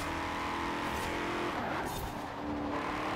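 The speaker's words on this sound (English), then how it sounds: "That Countach is so quick!" A Lamborghini Countach hypercar engine roars in Forza Horizon 4 during a burnout challenge, a loud sustained drone with a rising sweep and hints of tire squeal, no talk.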